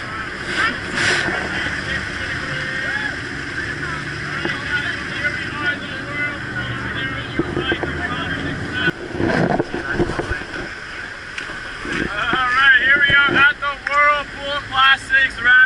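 Jet boat roaring through the Niagara whirlpool rapids, with steady engine and rushing water under wind buffeting the microphone, rising to louder splashing surges near the end; people talk and exclaim throughout.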